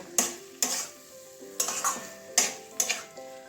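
Brinjal frying with tomato and onion in a pan, quiet sizzle under a series of distinct metal spatula scrapes and taps against the pan at an irregular rhythm, no talking.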